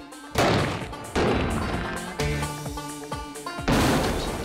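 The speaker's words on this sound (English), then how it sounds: "That is an explosion." Explosives blowing up a test torso, a series of loud sharp blasts and crashes in quick succession, close and punchy, each followed by brief ringing decay.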